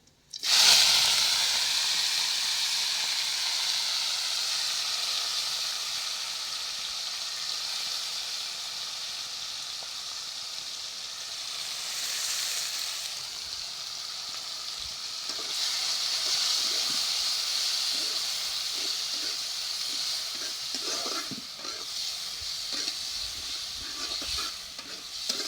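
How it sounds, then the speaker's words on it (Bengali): Cumin seeds and spices crackle in hot oil, a loud continuous hiss that starts abruptly and holds steady close by, with faint scattered pops and no talking. "প্রথমে তেল দিয়ে তারপরে জিরাটি ফোড়ন দিয়ে দিলাম"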